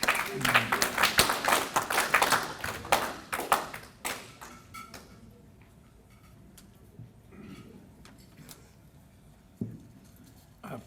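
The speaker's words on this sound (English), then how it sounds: "I would tell you how touched I was by that applause" An audience at a Rotary club meeting gives a short burst of clapping that fades out after about four seconds, followed by quiet room noise, a few faint taps and a voice.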